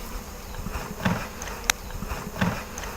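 Honeybees working over a frame of new wax in an open hive give a steady, close buzzing hum throughout, with slightly louder swells as insects pass near and one sharp brief tick partway through.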